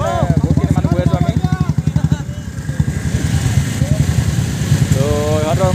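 A motorcycle engine chugs with a fast pulsing beat during a wedding procession, carrying the bride and groom. It is loud and close at first, then settles to a steadier running hum as voices talk over it.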